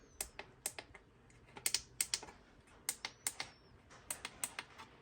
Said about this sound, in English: you want to press these buttons. Make sure it makes the clicking noise.